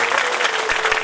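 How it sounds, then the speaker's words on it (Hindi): An audience claps loudly to welcome guests at a Bhagwat katha religious gathering, a dense burst of crowd applause heard close and alone for about a second. "एक बार जोरदार ताली बजाकर इनका स्वागत करें"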